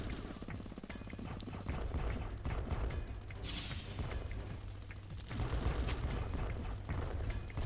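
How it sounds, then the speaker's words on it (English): Spider enemies in the OTTTD tower-defense game fire pellet bombs, heard as a continuous rattle of rapid popping shots and small blasts layered with game effects, busy and fairly steady throughout. "See these spiders, they fire out these little"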